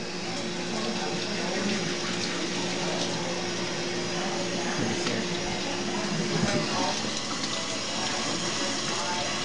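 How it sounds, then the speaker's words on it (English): Cold water gushes steadily from a tap over food being rinsed, a continuous broadband rush with faint clatter underneath and no pauses. "We'll run these with cold water."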